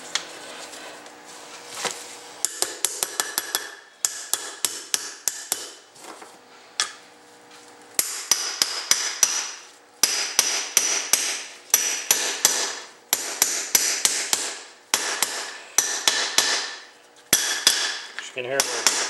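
Repeated hammer blows drive a wheel bearing into an ATV differential, with sharp metallic strikes in quick bursts and short pauses, close and loud, the tapping growing brighter and denser as the bearing goes in.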